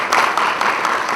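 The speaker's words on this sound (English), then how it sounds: "Let's give Miss Governor another round of applause." Audience applause for a state governor at a university launch event, a dense steady wash of many hands clapping, fairly loud and continuous.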